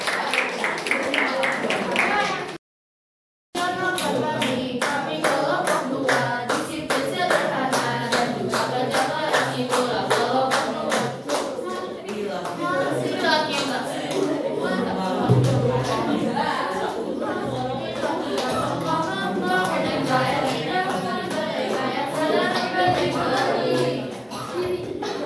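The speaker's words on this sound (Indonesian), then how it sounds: "Oke, tepuk tangan buat kelompok 2." A group audience claps for a team in a classroom-style gathering, producing a long run of rapid, crisp hand claps that carries on for many seconds under overlapping chatter and voices, briefly cut by a silent gap near the start.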